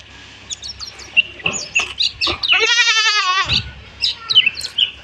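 A month-and-a-half-old Beetal cross goat kid on a semi-intensive goat farm lets out one loud, wavering bleat close by, with chirping birds and other small farm noises around it.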